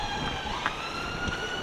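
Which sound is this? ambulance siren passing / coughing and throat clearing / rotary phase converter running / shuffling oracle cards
ambulance siren passing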